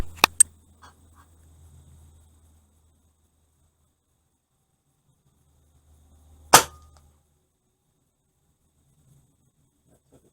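A .22 pellet rifle fires a very lightweight pellet outdoors in the woods. There are a couple of sharp cracks at the start, then a single louder snap midway, with quiet stillness between them.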